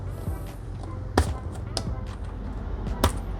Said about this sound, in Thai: เดี๋ยวแกะ ปุ่มให้ดู